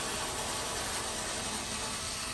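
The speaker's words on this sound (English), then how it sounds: "Now mounting the 2 screws for the mid-range bracket" Screws are driven into a mid-range bracket with a ratchet, a quiet, fast, continuous clicking close by over a hissy background, with no voices.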